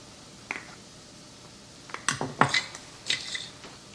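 A spoon scrapes and clinks against a bowl while a dry spice rub of oregano, chipotle, paprika, cinnamon, coriander and onion powder is mixed, in a few irregular close taps and scrapes.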